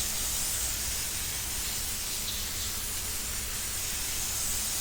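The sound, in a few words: water spraying from a garden hose nozzle onto seedlings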